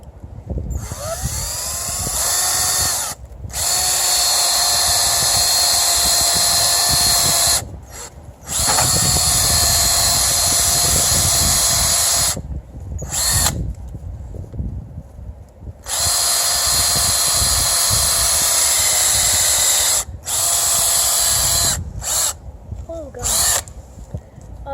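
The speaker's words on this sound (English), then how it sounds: "you want to put your drill slightly upward on a tree. I'm just going to drill right there." A power drill bores a tap hole into a maple tree in long, loud, high-pitched whirring runs, broken by short pauses and occasional talk between bursts.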